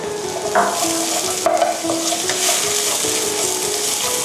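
Garlic, carrot and shiitake mushrooms stir-frying for Thai fried mee sua noodles, a close continuous sizzle with spatula scrapes and taps against the pan at intervals, no voices.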